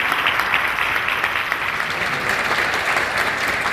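Applause from a live audience at the Corporate Club at Landerhaven: dense, steady clapping from many hands that fills the room evenly at a sustained, fairly loud level with no voices over it.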